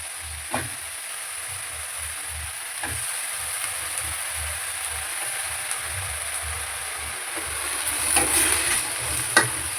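Eggplant sautéing in a pan for sambar, giving a low continuous sizzle broken by occasional spatula scrapes and clicks, a little busier toward the end.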